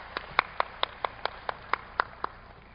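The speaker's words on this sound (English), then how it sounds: "Let's give them a big round of applause." A single person clapping slowly at a Buddhist studies conference session, about ten sharp, evenly spaced claps close to the microphone in a quiet room, with no crowd joining in.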